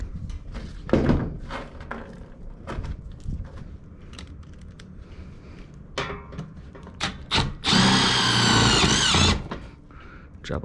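A power drill drives self-tapping screws into HVAC ductwork on a central air conditioning service call, giving a loud sustained whir of about two seconds after scattered knocks and handling clatter of the duct.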